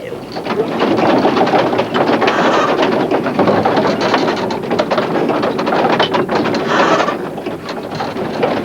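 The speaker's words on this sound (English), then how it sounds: "The old windmill is turning round, blowing in the wind." An old windmill turning in the wind while grinding wheat for bread gives a loud, steady clattering rumble of wooden machinery that runs without pause throughout.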